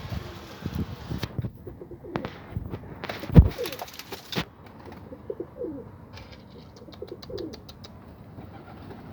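Young pigeons coo in low, throaty repeated calls close by, with a sharp thump and rustling partway through and a faint higher chirping later.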